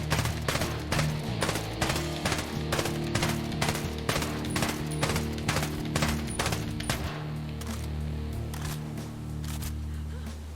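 Suppressed M4A1 Scout rifle in Ghost Recon Breakpoint fires rapid, evenly spaced shots in a quick burst lasting several seconds, each report sharp and close, then stops, leaving a low hum.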